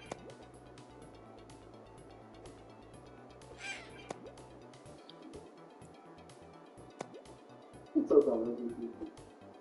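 A crow caws in the Golf Zero video game, a short harsh call near the fourth second and a louder burst near the end, faint over a low steady game background.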